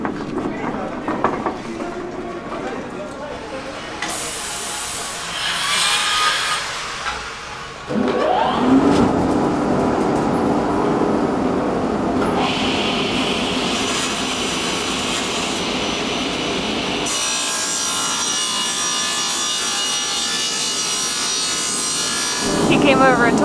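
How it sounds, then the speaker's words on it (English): A power saw blade cuts wood in the cutting area of a Japanese home improvement store, a loud sustained whining rasp that builds and holds for many seconds, with people speaking over it. "we go back to our helpful man that's over in the cutting area and we get to listen to the blade"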